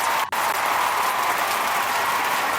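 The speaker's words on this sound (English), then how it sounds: "Give yourselves a round of applause." A steady wash of applause, even and moderately loud, runs without pause, broken only by a brief dropout near the start.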